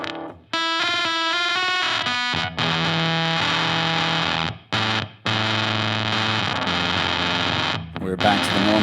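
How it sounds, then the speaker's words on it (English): An electric guitar through a fuzz pedal on its normal setting plays distorted single notes and sustained chords in bursts separated by short silences, loud and close, with a brief squeal near the end. "We're back to the normal fuzz here."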